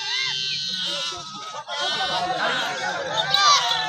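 Sheep bleat repeatedly while being given medicine amid a busy crowd at a Sant Balumama flock camp, with people talking and chattering throughout; the wavering animal calls rise over steady background noise.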